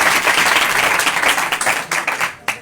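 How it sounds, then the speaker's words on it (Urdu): A church congregation claps loudly and continuously for Jesus, dense applause from a crowd filling the room, thinning slightly toward the end. "اے زوردار تالیاں یسوع کے لیے پوری طاقت سے"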